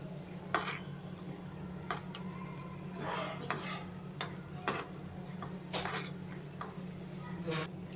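Sun-dried stuffed chillies fry in oil with a low, steady sizzle, and a utensil scrapes and clinks against the pan every second or so as they are stirred.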